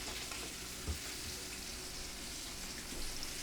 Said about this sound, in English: we're going to saute the vegetables